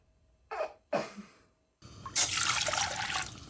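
A couple of short clunks, then two cups of water pour steadily into a pot for noodles with a rushing splash.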